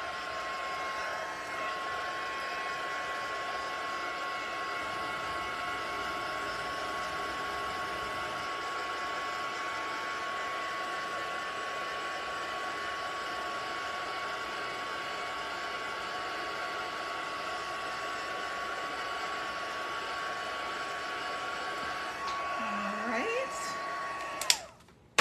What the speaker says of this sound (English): Let's just heat this a little bit with our heat tool and see if we can get this dried up a bit.